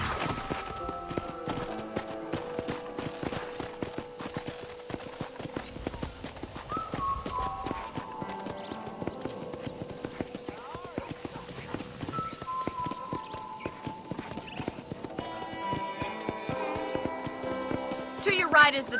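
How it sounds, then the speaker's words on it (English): Horse hooves clip-clopping at a steady pace while riding in Red Dead Redemption, a continuous rhythmic patter running throughout under game music and a speaking voice. "let's see if you can still ride a horse."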